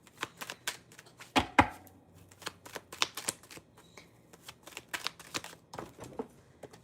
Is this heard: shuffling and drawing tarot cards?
yes